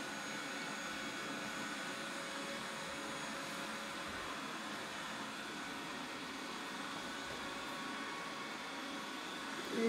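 A Roborock robot vacuum cleaner runs indoors across floors and rugs, producing a steady, even broadband whir that stays constant for the full stretch with no talk over it.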